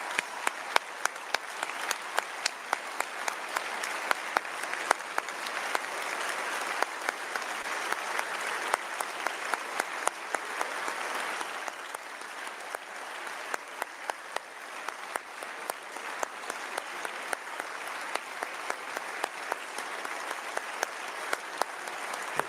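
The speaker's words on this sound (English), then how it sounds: "they're clapping a while here" Sustained audience applause fills a European Parliament chamber during a speech, a steady dense wash of clapping that runs on without pause at moderate loudness, with no talking over it.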